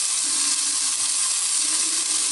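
Sliced onion frying in a little leftover fat at the bottom of a pan for Moroccan chicken, giving a steady, even sizzle that holds close and loud throughout without pause.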